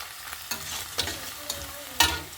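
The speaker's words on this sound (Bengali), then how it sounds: "পেঁয়াজটা অল্প লাল করে ভেজে নেব।" Chopped onions frying in a pan while being stirred: a steady close sizzle with four evenly spaced scraping strokes of the spoon, no voices.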